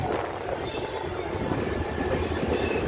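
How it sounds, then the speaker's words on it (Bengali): A train runs steadily just after departing Kolkata, heard from close by as a continuous loud rumble and rattle with faint higher squeals, with no talking. "দেখুন কলকাতা থেকে ছাড়ার পরে ট্রেনের অবস্থা"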